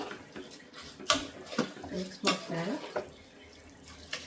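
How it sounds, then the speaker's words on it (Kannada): Hot water pours into a cooking pot of washed rice for menthya soppu bath, splashing and gurgling close by in uneven bursts, with a voice speaking over it. "ಇದಕ್ಕೆ ನಾನು ನೀರನ್ನು ಬೇಗ ಆಗಲಿ ಅಂತ ಬಿಸಿ ನೀರು ತೊಗೊತಿದ್ದೀನಿ"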